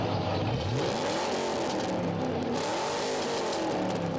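A loud modified car engine roars and revs, its pitch sweeping up and down steadily throughout, near and alone with no voices.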